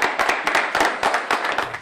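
A small group claps after a couple is declared married at a wedding in Rosario, brief, uneven close handclaps in quick irregular bursts.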